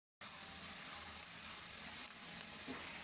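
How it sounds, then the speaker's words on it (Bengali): Onions fry in a pan with a soft, steady, even hiss that runs unbroken after a brief silent start. No voices are heard. "পেঁয়াজ দেখছেন কি সুন্দর ভাজা হয়ে গেছে"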